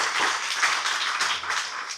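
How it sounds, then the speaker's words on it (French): An audience at a municipal election campaign event in Morne-à-l'Eau claps for two honoured women, with steady applause from several pairs of hands at moderate distance and no voices over it. "je vous demande d'applaudir Madame Lovie Bastin et Madame Jocelyne Samon."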